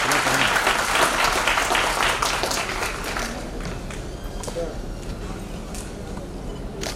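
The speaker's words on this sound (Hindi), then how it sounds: "थोड़ी तालियां बजेंगी," Audience applause at an engineers' day event in a hotel hall, a dense burst of many hands clapping that is loudest at first and then thins into a steadier, softer patter, with voices mixed in.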